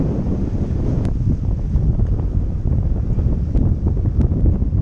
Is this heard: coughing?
no